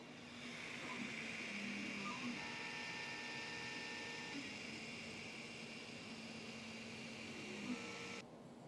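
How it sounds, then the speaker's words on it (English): An Artillery Sidewinder X2 3D printer runs steadily, its motors giving a constant mid-loud whirring hum with faint tonal whines, continuous throughout with no talk. "Here's a sample of audio so you can see how loud this printer is."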